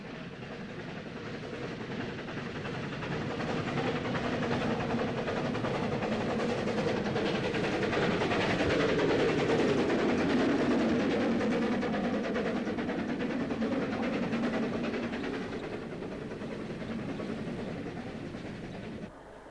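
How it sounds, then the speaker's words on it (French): A 1924 locomotive runs on the historic Vitznau-Rigi railway, a steady rumbling, hissing train noise that swells and then eases across the stretch. "la direction de Witznau Regibahn a remis en service une vieille locomotive de 1924"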